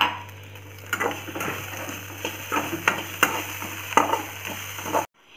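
Avil (flattened rice) fries in a pan with a steady sizzle, broken by irregular scraping and clinking strokes of a stirring spoon, close and fairly loud, before cutting off abruptly.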